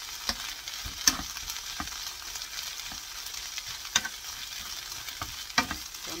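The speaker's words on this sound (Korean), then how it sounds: "이걸 이제 달달달 볶으시면 돼요." Dried chwinamul greens stir-fried in oil, with a soft continuous sizzle broken by repeated sharp scrapes and clacks of a utensil against the pan at an irregular pace.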